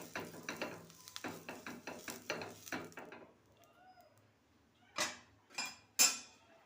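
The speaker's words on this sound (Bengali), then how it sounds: "তেল গুলিয়ে নিচ্ছি" Oil being stirred into pitha batter, a run of soft, regular scraping strokes for about three seconds, then a pause and a few sharper, louder clinks of utensil against the bowl.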